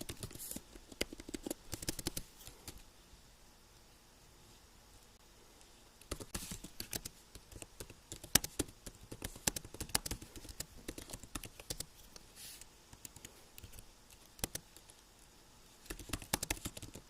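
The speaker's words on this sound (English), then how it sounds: "if you're wondering why I'm typing" Typing on a computer keyboard during an online lecture session comes as faint bursts of quick, uneven clicking, with pauses between flurries and no voices.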